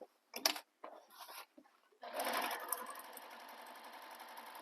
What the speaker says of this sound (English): So now I'm stitching my side panel here.